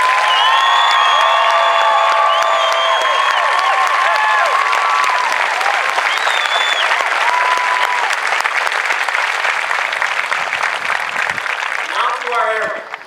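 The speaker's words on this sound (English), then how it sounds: "can you join me in a huge round of applause for the military training instructors" A large crowd claps loudly and steadily for the military training instructors at an Air Force Basic Military Training parade, with scattered cheers and whoops over the applause before it tails off at the end.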